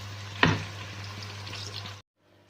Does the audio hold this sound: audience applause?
no